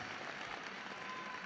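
Graduation commencement audience applauding, a dense, even wash of clapping that carries steadily through a short stretch.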